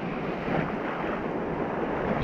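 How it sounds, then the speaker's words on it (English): Choppy water sloshes and slaps against a boat's hull and scoop amid steady wind noise, a continuous rushing wash with a sharper splash near the end. "the waves are banging the scoop."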